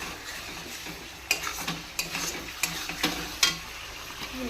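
Eggs stirred and fried in spiced masala in a pan over a gas flame for a thin Bengali egg curry: a soft steady sizzle punctuated by irregular scraping and clacking strokes of a spatula, close up.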